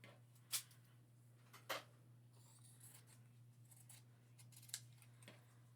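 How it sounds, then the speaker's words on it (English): Scissors cutting a T-shirt into strips for a tote bag, a few sharp, quiet snips spaced seconds apart over a steady low hum. "And now I'm cutting front and back into strips up to that tape line"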